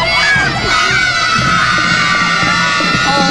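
A large crowd of children shouts loudly and continuously for Sinterklaas at an outdoor arrival event in Oldebroek, a dense, sustained roar of excited voices without pause.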